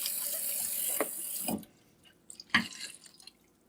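Blood clams rinsed under a running kitchen tap, water splashing steadily before stopping, followed by a few scattered drips and clinks, near and fairly quiet.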